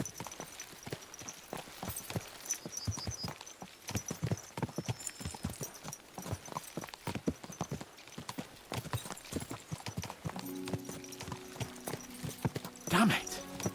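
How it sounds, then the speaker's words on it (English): Horses gallop in the medieval video game Kingdom Come: Deliverance II, rapid hoof clip-clops drumming steadily throughout, with a brief whinny-like sound near the end. "Let's really spur these horses on, eh?"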